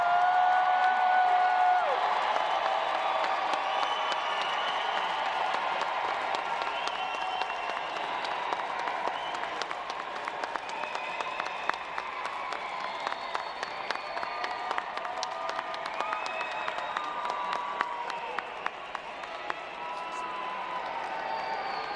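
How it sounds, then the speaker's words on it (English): Graduates and families applaud at a university fall commencement, a long, steady roar of clapping from a large crowd with scattered sharper claps standing out as it continues. "Graduates, please stand, look for your family and loved ones in the audience, and salute them with your applause."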